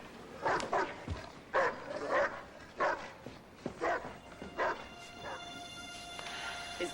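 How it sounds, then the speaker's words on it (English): A neighbour's dog left behind while its owner is away barks and yips in repeated bursts at moderate distance, with short whimpering gaps between calls. "I gotta do something about that damn dog."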